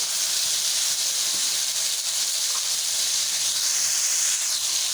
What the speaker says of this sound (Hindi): अदरक लहसुन का पेस्ट 1 चम्मच, और इसको भी थोड़ा सा कुक कर लेते हैं।